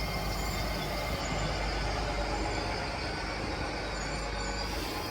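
Class 800 IET train 800033 pulls away from platform 1 with a dense, steady broadband roar and rumble that stays loud and even throughout.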